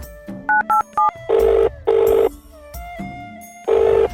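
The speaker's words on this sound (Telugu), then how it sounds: "అమ్మకు ఫోన్ చేసి అడుగుదాం ఒకసారి." A phone call being placed to a mother: a few short dialing tones, then repeated electronic ringback tone bursts in a steady on-off rhythm, loud and close, with no voices.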